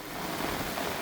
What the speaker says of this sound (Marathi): परभणी जिल्ह्यात पहाटेपासून जोरदार पाऊस